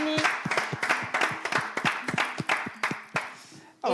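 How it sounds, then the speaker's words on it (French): A studio audience claps for young contestants on a French contest show, sharp individual hand claps in a quick, uneven rhythm, close and loud, with no talk over it. "Je vais encore vous demander s'il vous plaît, dans le studio également, ceux qui sont à la maison, d'applaudir ces présents"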